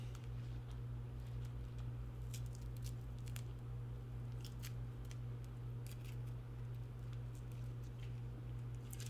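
A cat chews on bubble wrap nearby, giving scattered faint crinkles and crisp pops over a steady low electrical hum in a hobby room where a miniature is being painted.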